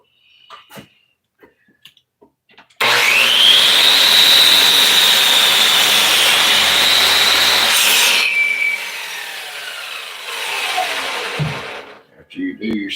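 A miter saw spins up sharply and cuts through wood with a loud sustained whine for several seconds, then winds down as the blade slows; faint knocks and handling sounds come before and after.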